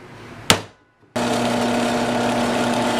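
A drill bites into a thin metal back plate while a Rotopax fuel and water can mount is fitted to a Royal Enfield Himalayan BS4. A sharp knock and a brief pause come first, then a loud, steady whirring grind runs on without a break.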